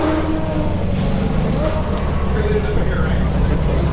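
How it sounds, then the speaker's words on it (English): Constant loud engine roar from cars revving nearby at a cars and coffee meet, a thick rumbling drone with crowd chatter underneath. "You just hear cars ripping."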